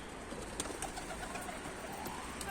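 Tumbler pigeons, including a Mardin breed, fly outdoors around a coop, and soft cooing comes faintly over a quiet rustling background with a few brief chirps, no voices.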